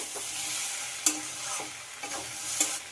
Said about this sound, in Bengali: সব কিছু আবারও খুব ভালো করে কষিয়ে নিতে হবে।